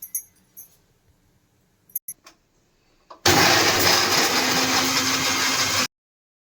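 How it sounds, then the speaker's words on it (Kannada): A kitchen mixer grinder grinds field beans with cardamom, roaring loud and harsh for about two and a half seconds before cutting off abruptly, after a few soft clicks and knocks from setting it up. "ಆ್ಯಂಡ್ ಇದನ್ನ ಮಿಕ್ಸಿಗೆ ಹಾಕೊಳ್ಳೋಣ"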